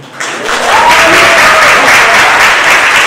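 An audience breaks into applause, quickly swelling into a dense, steady roar of clapping that holds at full loudness.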